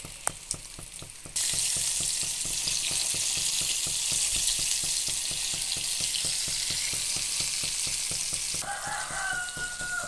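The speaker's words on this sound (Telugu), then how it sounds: "బూరెల ప్రిపరేషన్ అయితే జరుగుతుంది బూరెలు అయితే వండుతున్నాను" Burelu, sweet chana dal and jaggery dumplings in a rice and urad flour batter, frying: after a quiet start with a few sharp clicks, a loud, dense sizzle sets in and holds steady, easing near the end as a brief tonal call sounds.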